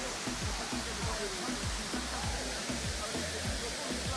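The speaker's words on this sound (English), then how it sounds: "All right, nice waterfall." A waterfall in the El Yunque rain forest, Puerto Rico, roars in a steady broadband rush, loud and close, with low rhythmic thumps beneath it.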